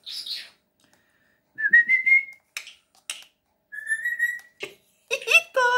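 A parrot gives a series of clear, rising whistles, separated by short pauses and mixed with a few sharp chirps, close and fairly loud.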